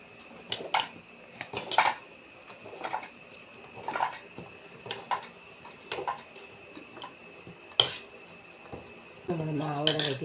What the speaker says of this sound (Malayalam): അപ്പസോഡ രണ്ടും കൂടി ഒന്ന് മിക്സ് ചെയ്യാം.